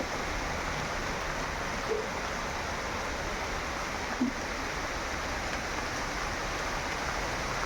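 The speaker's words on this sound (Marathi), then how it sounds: "आणि बघा हे पाऊस कसं चालू आहे इकडे छान असा" Heavy rain falls steadily at night outside a house, a dense even wash of noise with no breaks, heard alone without voices.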